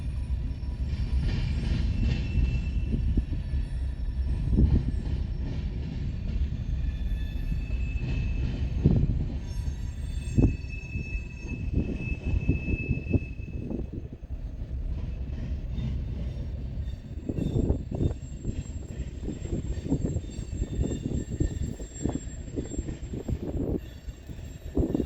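A Santa Fe Warbonnet locomotive and its train roll past outdoors, a loud continuous rumble of wheels and cars with brief wheel squeals rising and fading over about twenty-five seconds, no voices.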